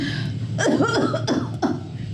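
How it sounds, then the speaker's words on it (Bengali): A few short, harsh coughs close by, coming in quick bursts with brief pauses between them, with no talking around them. "ঠান্ডায় গরমে আমার কাশি হইলে আমি কি করব?"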